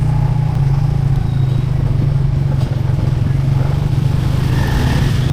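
A motorcycle ridden at night through the Green Gate area, its engine holding a steady low drone throughout, with road clatter and faint wind noise layered on top.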